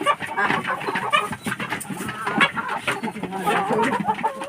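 Chickens on a poultry farm cluck and chatter as a close, steady flock, with overlapping calls rising and falling in a constant, crowded murmur.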